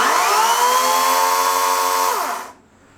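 A Kobalt 80V Max brushless battery chainsaw runs its chain with a loud, smooth electric whine and no engine chug, then spins down and stops, leaving near silence.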